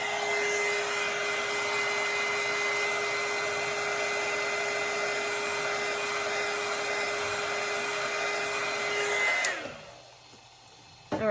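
A hair dryer blows air over epoxy on a spinning tumbler, a steady loud whine with a constant hum for about nine seconds, then it cuts off and winds down.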